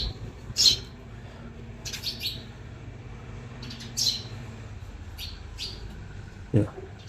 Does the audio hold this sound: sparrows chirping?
yes